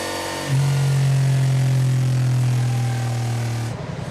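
A Honda DCT motorcycle engine holds a steady, loud, close hum as it accelerates, easing off at the end.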